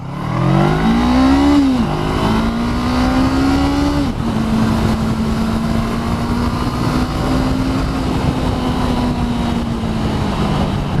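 A 2019 Honda CBR500R motorcycle accelerates hard on the road, its engine note rising sharply through a gear before settling into a sustained high whine, loud and close with heavy wind rush.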